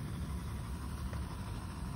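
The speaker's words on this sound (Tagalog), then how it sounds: "Ayun, dalawang makina na." Two engines of a Kiasa Plus double pump sprayer running together, a steady, dense droning rumble with constant vibration and no breaks, close and moderately loud.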